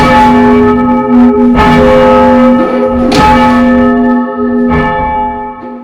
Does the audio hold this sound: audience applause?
no